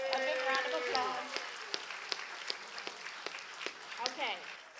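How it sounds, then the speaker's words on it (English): Applause from an audience at a track and field state ring ceremony, scattered claps under a voice at the start, thinning into sparse claps and murmurs. "So let's give her a big round of applause."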